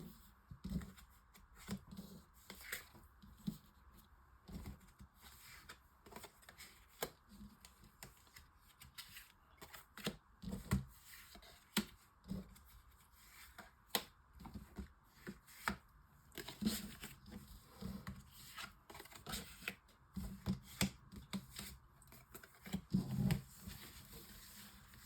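Tarot cards shuffled and laid out for a nine-card reading, soft rapid riffling and flicking with light taps of cards set on a table, close and quiet, continuing unevenly throughout.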